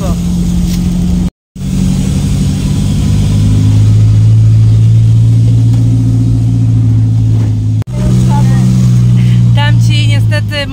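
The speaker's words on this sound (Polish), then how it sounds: "Motor się im poddał i nie dają rady wjechać." A truck or car with people riding in the back strains up a steep hill on Koh Lanta island in Thailand, its engine droning loudly and revving in a sustained, labored roar that briefly cuts out twice.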